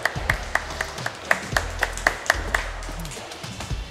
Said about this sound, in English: Give a big round of applause for our sponsors.